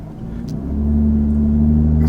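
A Lotus Evora 400 sports car engine rumbles on a test drive, swelling into a steady, droning hum as the revs build, with no talk over it.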